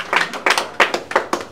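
Claps from staff at a fashion showroom opening in Bhagalpur, a short burst of about six loud, close, evenly spaced hand claps with no talk over them.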